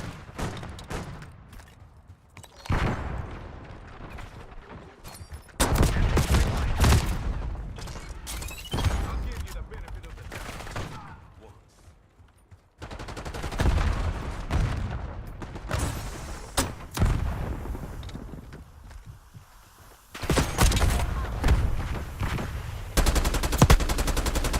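Video game gunfire in bursts of rapid automatic shots and single cracks, loud and close, separated by short lulls, with a voice speaking at times between the volleys.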